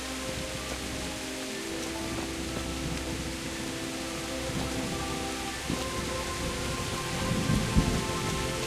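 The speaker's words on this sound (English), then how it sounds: "There's something comforting about rain, or at least I find comfort in the rain." Rain pours steadily in Kingdom Come: Deliverance, a broad continuous hiss with a low rumble of thunder swelling near the end.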